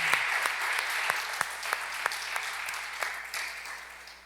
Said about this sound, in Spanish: Le debemos dar un aplauso.